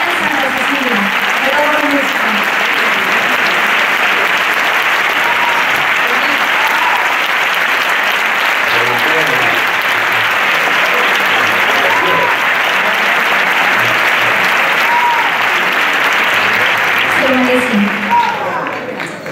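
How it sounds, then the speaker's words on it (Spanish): A large audience at a copla music award night in Córdoba gives the orchestra a long, loud round of applause, dense sustained clapping that holds steady for nearly twenty seconds with a few cheers mixed in. "le vamos a dar un fuerte aplauso"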